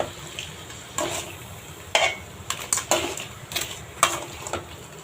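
A spoon scrapes and knocks through a pot of crab curry being stirred from the bottom, with several distinct clanks at irregular intervals over a soft background hiss.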